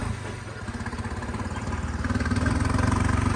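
A tractor hauls a fully loaded trolley through a damp paddy field after harvest. Its engine chugs steadily and close, with a rapid pulsing throb that grows slightly louder toward the end.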